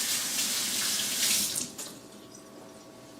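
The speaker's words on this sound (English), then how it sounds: "Quickly wash my hands off." Tap water runs steadily into a sink while hands are washed, a close, full rushing splash that cuts off partway, leaving quieter drips and room noise.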